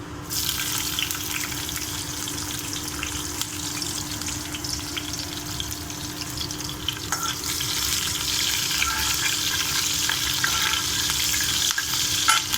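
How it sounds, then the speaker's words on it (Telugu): Sliced green chillies fry in a pan of oil with fennel and cumin seeds while paneer fry is being prepared, giving a loud, steady sizzle with crackles and stirring scrapes that grows slightly fuller toward the end. "ఇప్పుడు మనం పచ్చిమిర్చి కూడా వేసుకుందామండి."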